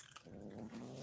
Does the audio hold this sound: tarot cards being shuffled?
no